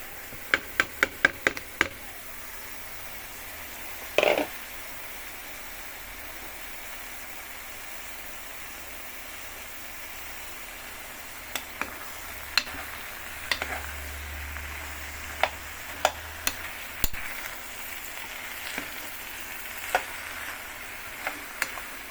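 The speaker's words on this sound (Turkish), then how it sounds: "Şimdi evet şimdi kabağımızı koyuyoruz arkadaşlar." Zucchini cooking in a pot on the stove, a soft steady sizzle with sharp ticks and clicks of a spoon stirring, a quick clatter at the start and scattered knocks later, no talk.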